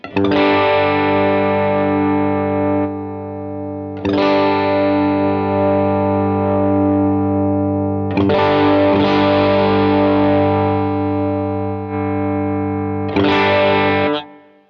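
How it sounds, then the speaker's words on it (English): A Gibson '56 Les Paul electric guitar played through a single pickup while the tone knob is turned, four loud sustained distorted chords ringing out one after another at roughly four-second intervals. "we're hearing just this pickup, and we're going to turn this and see what happens"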